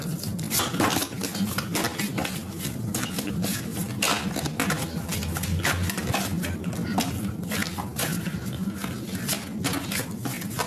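Tarot cards being cut and handled at a reading table, a dense run of close, clattery shuffling and tapping that carries on steadily, with no voices.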